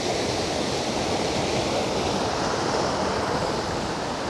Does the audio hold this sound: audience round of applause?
no